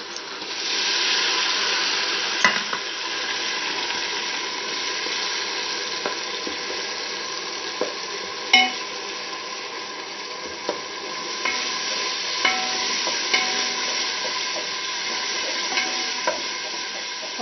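Three tomatoes hit a pan of lightly fried pumpkin and chana dal masala, giving a steady close sizzle with repeated scraping stirs and small clinks throughout, and no voices.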